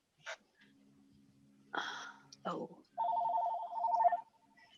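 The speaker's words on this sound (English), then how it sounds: "I can't turn that phone off, and my husband's not home to pick it up." A household telephone rings during a home meeting setting, a steady electronic warbling ring lasting about a second, preceded by breathy sounds and soft movement noise, fairly close and clear.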